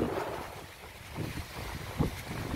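Wind and surf on the beach at Pantai Watu Karung, Pacitan, East Java: a steady, rushing roar of waves and breeze, with gusts buffeting the microphone and no talking.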